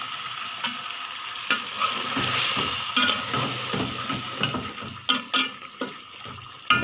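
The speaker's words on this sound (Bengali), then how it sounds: "এই তো আমি এখন পেঁপেগুলি দিয়ে দিব।" Curry frying in a pan as papaya pieces go in, with a steady sizzle, scraping stirs and a few sharp clinks of a utensil against the pan toward the end.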